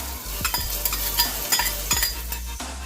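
Crushed garlic, chopped green chilies and finely cut ginger frying in a pan for aloo matar pulao, with a constant close sizzle, a low hum underneath and brisk stirring scrapes throughout, no voices.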